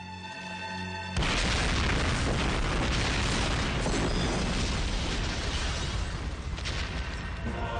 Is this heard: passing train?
no